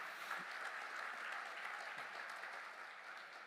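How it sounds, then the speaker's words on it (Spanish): A church congregation claps in sustained applause, a dense, even patter of many hands heard from a distance and at low volume, fading slightly toward the end. "Dele un fuerte aplauso."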